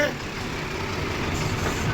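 A tractor engine rumbles loudly and steadily close by, a continuous low drone with no breaks.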